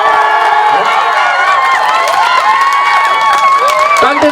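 Dense rally crowd in Bucheon cheering and shouting continuously at a close, loud level, with many overlapping voices and whistles during an outdoor campaign speech for a Gyeonggi governor candidate.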